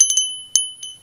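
A Sarna bell, a brass bell sold at a secondhand bargain sale, rung by hand with a slightly flat tone, giving three or four bright, close metallic strikes with steady sustained overtones that ring on between hits.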